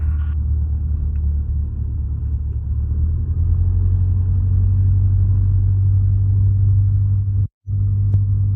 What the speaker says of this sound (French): je m'aligne et je décolle.